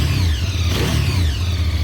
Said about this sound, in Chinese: 它的排气的声音会小一些，机器的声音会大一些。